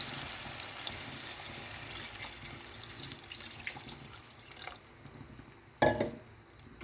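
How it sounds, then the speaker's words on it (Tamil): Water is poured into a pot holding mushroom stock and salt for Chinese-style noodles, a short splashing gush rising near the end over a low, steady background hiss. "தண்ணி ஊற்றிக்கலாம்."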